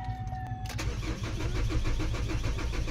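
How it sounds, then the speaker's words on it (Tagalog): A Chevrolet Trailblazer engine that has stalled cranks steadily after a warning chime cuts off, the starter churning loudly and rhythmically at close range without the engine catching. "So itry lang muna natin i-crank."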